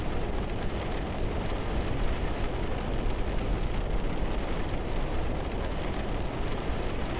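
Steady rain hissing in the Virtual Sailor NG simulator around a cruise ship arriving at Skagway, a dense, even downpour that holds constant with no voices.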